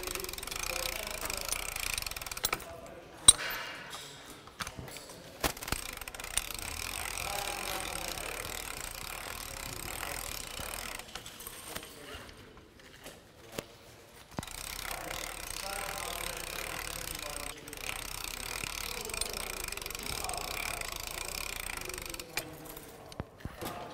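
A Harken LOCK HEAD winch is cranked by handle during confined space rescue rigging. Uneven mechanical clicking and ratcheting runs in bursts with short pauses and a few sharp knocks, fairly quiet and close.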